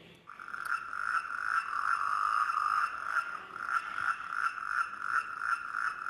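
A dense chorus of frogs on Lake Mori croaking continuously, their rapid overlapping calls forming a steady pulsing drone with no voices.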